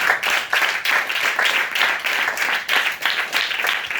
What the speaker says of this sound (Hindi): यूथ के लिए जरा जोरदार तालियां लगाएं।